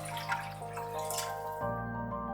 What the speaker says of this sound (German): Zwei Liter Wasser hineingeben.